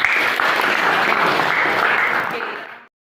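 Students applauding in a school classroom, a loud, steady burst of clapping that carries on for a few seconds and then cuts off abruptly.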